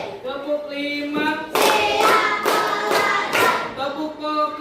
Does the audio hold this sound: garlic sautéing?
no